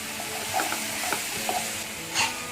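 A spoon stirs a mushroom and baby corn gravy in a pan with lemon juice added, making soft, brief scrapes over a gentle, quiet simmering sizzle, with no voices.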